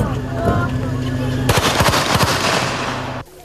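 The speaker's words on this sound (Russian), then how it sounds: "Стрельба, взрывы гранат – все как в кино." Gunfire bursts and grenade blasts during a special forces demonstration of a vehicle capture, with sharp repeated cracks and booms arriving in a loud dense cluster over steady background noise, then abruptly stopping.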